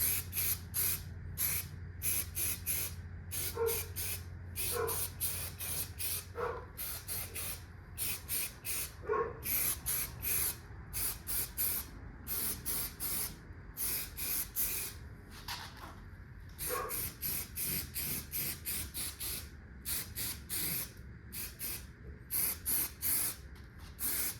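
A spray gun or spray can primes the body of a 1978 Ford short bed truck conversion in repeated short hissing bursts with brief gaps, fairly faint and steady in rhythm, no talking.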